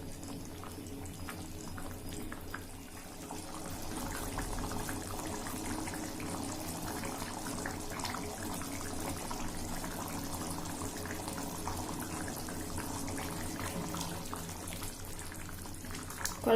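A pot of dried-fish and field-bean curry simmers on the stove, giving a soft, steady bubbling and faint sizzle that runs evenly throughout, with no one talking.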